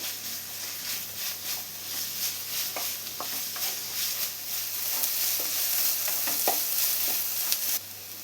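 Sliced onions sautéing in a pan for chicken kurma, a steady sizzle with scattered scraping stir strokes close by, continuous and moderately loud without speech.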